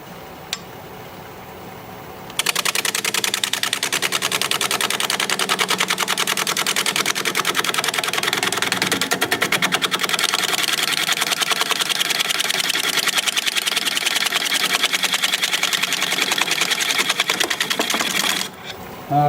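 A wood lathe spins a punky, decayed butternut log while the gouge cuts, producing a loud, continuous rough whirring and chattering roar after a quieter start.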